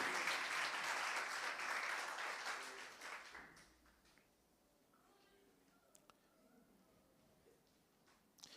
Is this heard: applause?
yes